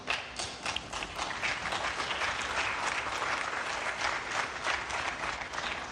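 Conference audience at an African airlines association general assembly applauding, a dense, even wash of many hands clapping that holds steady for several seconds.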